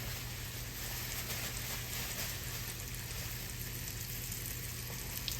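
Meat browns in hot grease in a skillet, giving a steady, dense sizzle and crackle that runs unbroken and fairly loud, with no talking.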